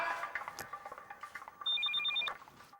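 A telephone rings indoors in an Urdu television drama, a bright warbling electronic ring in short repeated bursts over faint background room sound.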